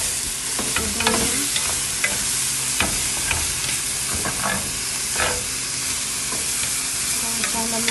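Shrimp pan-fry in a hot pan alongside salmon and vegetables, giving a steady, loud sizzle with crackling pops and occasional stirring scrapes throughout, with no talk.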